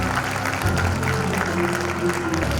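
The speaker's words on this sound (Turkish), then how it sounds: "Güçlü alkışlarınızla." Steady applause from a crowd at a university Quran recitation competition fills the space, dense and continuous, with some voices mixed in beneath it.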